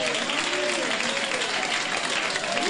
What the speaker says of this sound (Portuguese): Ah, mas pode bater palmas.